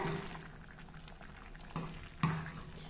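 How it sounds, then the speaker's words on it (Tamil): Rice congee bubbles and simmers in a pot after hot water is added, a soft, continuous close-up burble with occasional louder pops, no talking. "நம்ம வெந்நீர் விட்டதால் கஞ்சி வந்து இப்போ நல்லா கொதிக்க ஆரம்பிச்சிருச்சு"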